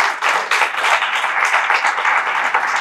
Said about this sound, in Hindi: आपकी तालियां भी होनी चाहिए